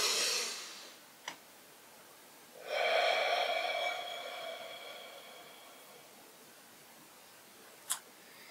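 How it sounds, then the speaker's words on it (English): A slow, deep breath drawn in and let out by one person sitting quietly, a long airy inhale swelling then fading alone, with faint sniffs and a couple of brief clicks around it. "And then I'm going to take a deep breath."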